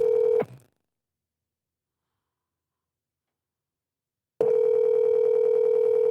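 A steady telephone dial tone sounds loud and close, cuts off abruptly, leaves about four seconds of silence, then returns at the same level and continues until the end.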